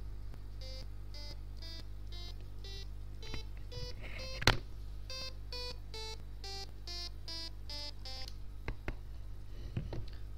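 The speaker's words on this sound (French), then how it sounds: "vous avez vu comment utiliser le bip de Windows" Windows system beeps triggered by key presses in a running program: a steady series of short, clean electronic tones at different pitches, one after another, over a constant low hum, with a brief click partway through.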